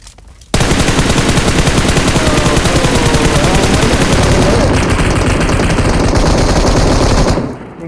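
Sustained automatic gunfire in PUBG Mobile, a dense rapid burst running for about seven seconds, loud and continuous before cutting off.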